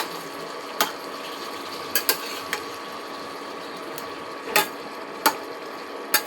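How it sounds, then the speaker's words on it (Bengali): A spatula stirs cauliflower, carrot and beans with spices in a pan, giving a handful of sharp, irregular metallic taps and scrapes over a low steady hum. "এবার আমি এটা ভালো করে সব সবজির সাথে খুন্তি দিয়ে নেড়ে মিলিয়ে নেব।"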